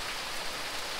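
Steady rain falls at an apiary, a dense, even hiss of drops filling the whole short stretch with no gaps and no voices.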